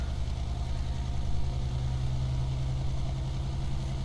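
Kenworth W900 truck engine in Euro Truck Simulator 2, a steady deep diesel drone with a strong low hum, constant and loud throughout with no speech.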